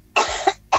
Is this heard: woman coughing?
yes